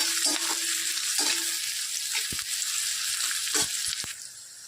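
Green chillies sizzling as they drop into a hot oiled pan for a brinjal curry, a loud continuous hiss with a few stirring knocks, fading slightly at the end.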